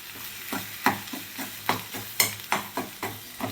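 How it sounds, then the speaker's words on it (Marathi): Egg bhurji scraped and broken up with a spatula in a hot pan: about ten sharp, close scraping strokes in an uneven rhythm over a soft, steady sizzle, with no voices. "आणि असं मधून मधून असं फोडली की चांगली भुर्जी होते बघा तयार मस्त अशी"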